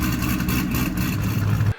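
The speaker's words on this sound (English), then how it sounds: "In this next clip, I intentionally have the engine at about 1200 RPMs at very light throttle, and you can clearly hear some light bucking." A cammed Chevrolet Corvette C6 engine runs at about 1200 RPM under very light throttle, giving a steady, loud, choppy low lope with slight bucking that cuts off abruptly near the end.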